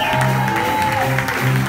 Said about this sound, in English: give Doc a nice round of applause